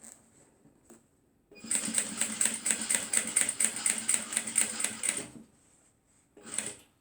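Close by, a sewing machine stitches a handbag strap in a rapid rattling burst of about four seconds, followed by a short stop and another brief run.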